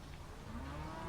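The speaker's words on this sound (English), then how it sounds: "Now the damn cows butting up against the car knocked the mic over." Cattle moo close around a parked car, a low drawn-out lowing call rising over steady background noise.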